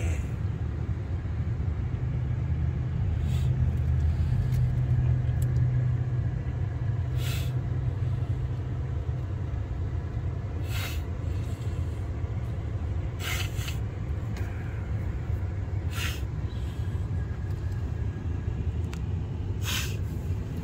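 Steady road traffic rumbles on continuously, with a car driving along the road under a low, broad roar and occasional brief hissing bursts, with no talk.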